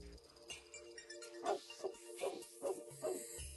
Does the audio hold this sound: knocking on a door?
no